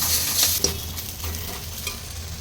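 Onions and half a tomato fry in a pan over medium heat for puri bhaji. A close, steady sizzle carries a couple of quick stirring scrapes.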